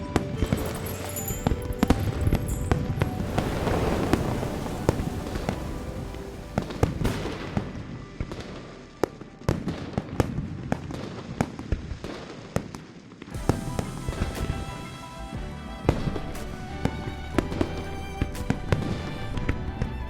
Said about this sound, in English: Do you want to set off fireworks in Hongning City?